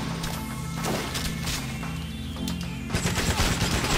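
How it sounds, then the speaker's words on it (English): Friendly turrets firing in the GoldenEye Rogue Agent video game, a dense rattling stream of rapid gunfire that keeps going, with heavier bursts toward the end. "Friendly turrets help us out. We can hide back here while friendly turrets do friendly turret jobs of shooting guys."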